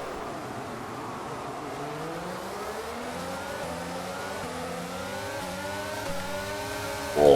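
F1 race cars in F1 22 leave the start together on a wet Monza track, a pack of engines droning and climbing in overlapping rising pitch sweeps as they accelerate through the gears, steady and fairly loud, without talk.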